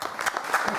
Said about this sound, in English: Can I have another round of applause for George?